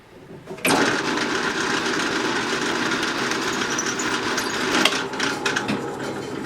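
A power drill bores into a geopolymer concrete snare drum shell, starting abruptly after a short pause and then running as a loud, steady grinding whine with a brief louder bite near the end.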